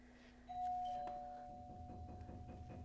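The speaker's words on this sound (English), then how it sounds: "did you just hear my doorbell?" A doorbell chimes once in a home during a yoga session, a sustained bright tone ringing out and slowly fading over a low steady hum, with no talking.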